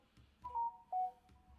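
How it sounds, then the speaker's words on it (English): A mobile phone gives two short electronic notification tones in quick succession, quiet and clear over a faint background. "because my phone keep going off"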